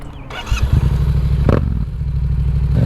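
Motorcycle engine chugging and lurching as the clutch is released abruptly, a low uneven rumble with a clunk and rattle midway, loud and close, no talking.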